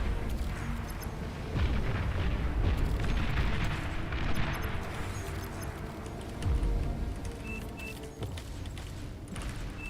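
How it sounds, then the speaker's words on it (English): Sniper units fire in the strategy game Beyond All Reason, with heavy booming shots and rumbling impacts recurring over a dense, loud battle soundscape. "Oh, I hear snipers."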